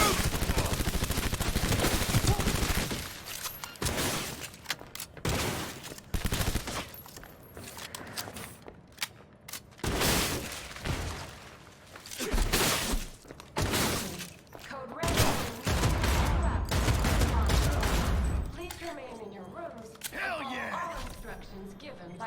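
Gunfire against heavily armored enemies in Cyberpunk 2077: loud bursts of rapid automatic fire and heavy shots come in repeated clusters, mixed with impacts and thuds, while people talk between and over the shooting.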